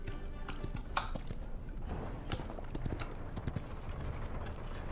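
Hoofbeats of a horse mount in the video game Paladins clatter faintly in quick irregular clip-clops, mixed with scattered game clicks and taps in the background.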